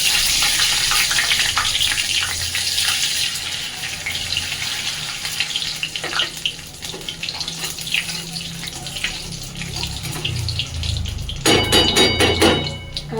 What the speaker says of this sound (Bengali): কালো জিরে ফোড়নটা দিয়ে দিলাম।